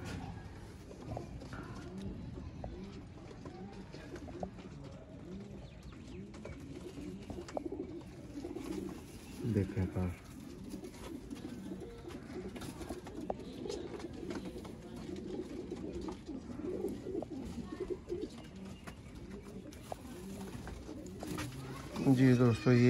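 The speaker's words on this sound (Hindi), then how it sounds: "आपकी आंखों के सामने कबूतर। कबूतर है माशाल्लाह" Several pigeons coo softly and repeatedly in a bird-keeping setup in Sialkot, their low murmuring calls running throughout under near, continuous talk from a man.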